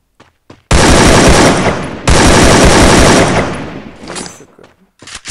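Automatic rifle fire from an AK and a UMP in a video game, two long loud continuous bursts back to back, the second tapering off into scattered quieter shots.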